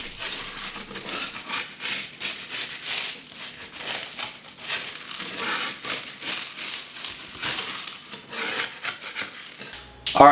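Freeze-dried blueberries being loosened from the bottom of a freeze-dryer tray: a steady, close-up dry rubbing and rasping scrape with light crinkly crackles, continuing without pause throughout.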